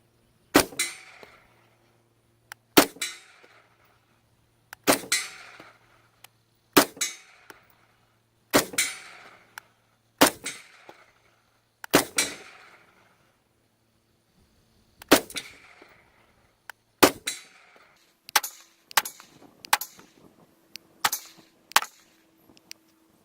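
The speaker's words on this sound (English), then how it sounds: "I'm shooting at 50 yards here. We've got a steel plate down range." CZ P-09 pistol firing steel case ammo at a steel plate 50 yards downrange, a dozen or so sharp loud shots spaced a second or two apart, several with a ringing clang from the plate, the final shots coming in quicker succession.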